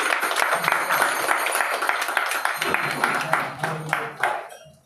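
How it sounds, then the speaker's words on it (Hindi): A crowd claps and applauds continuously, dense and lively, at a children's Independence Day debate and quiz competition, tapering off at the end, with a voice speaking over it. "जोरदार तालियां हो जाए हमारे प्यारे बच्चों के लिए"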